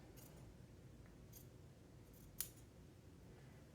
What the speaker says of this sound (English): I'm simply just going to cut it out.